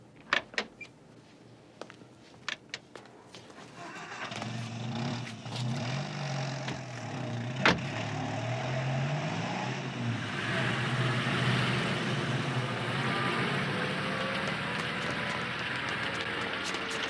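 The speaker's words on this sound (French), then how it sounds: "Grognard, tu prends le volant et tu les suis" A car door clunks shut a few times, then an engine starts and settles into a steady, close rumble as the car pulls away, in a 1989 French television drama scene with no talk.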